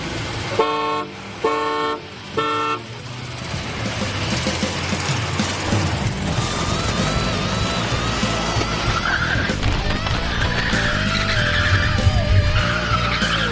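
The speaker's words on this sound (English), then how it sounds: "Are you gonna neutral slam it?" A van launches hard in a street race after a neutral-slam start, engine roaring as the tires skid and squeal continuously, loud and close, with a few horn toots at the start.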